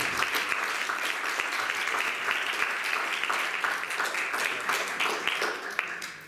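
Audience applause at a peace school gathering, sustained dense clapping at moderate volume with occasional sharper claps, steady for several seconds before tapering slightly at the end.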